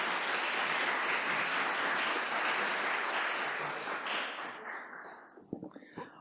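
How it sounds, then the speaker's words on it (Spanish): An audience at a film industry event at a fine arts museum breaks into warm, dense applause that holds steady for several seconds, then thins and fades into a few scattered claps. "así que un gran aplauso"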